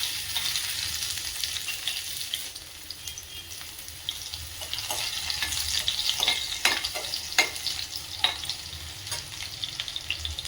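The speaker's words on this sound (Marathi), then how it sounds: "मोहरी तडतडते त्यामध्ये टाकून घेऊया हा ठेचलेला लसूण आणि जिरे एकत्र ठेचून घ्यायचे." Crushed garlic and cumin hit hot oil with mustard seeds, giving a dense, steady sizzle broken by sharp spluttering pops and crackles that grow busier toward the end.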